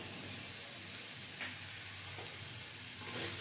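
Tomato, green chilli, cabbage and corn sizzle faintly in a pan for chicken thukpa, a soft steady frying hiss with a couple of quiet stirring scrapes, distant and low with no voices.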